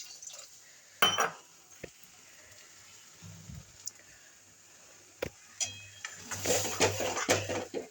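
Water poured into a cooking pot on a home stove, following a few clinks of a ladle against the metal; a soft splashing rush builds near the end, fairly quiet, with no talking.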